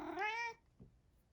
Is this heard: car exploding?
no